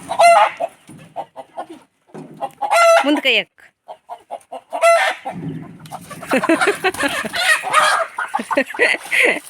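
Village chickens squawk and cluck in loud, agitated bursts up close as they are caught, with people talking over the flurry of flapping and commotion.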